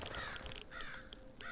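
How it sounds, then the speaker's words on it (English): Crows caw as they fly away in the video game Zero Sievert, several harsh caws in quick bursts, fairly close and loud over a steady background. "There's the crow's sound effect is stuck on of them flying away"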